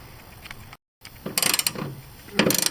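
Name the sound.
ratchet taking out a ground bolt on a Ford Explorer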